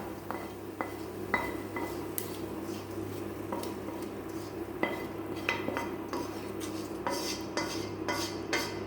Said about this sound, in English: enter all the fried onions and whatever you fried just now into your cooked sambar